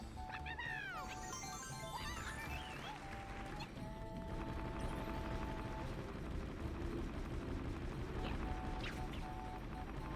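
Fireworks in Super Mario 3D World, a run of booming game explosions and crackles layered over busy music and sound effects, with a player talking over them.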